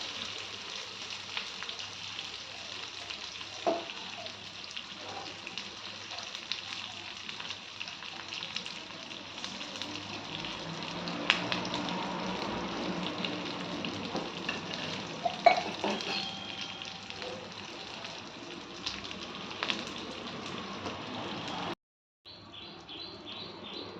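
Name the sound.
onion tempering frying in a pan for sambar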